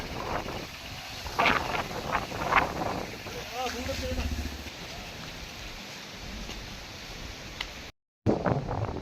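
Strong wind buffets the microphone in a steady roar, with rumbling gusts throughout and a brief dropout near the end.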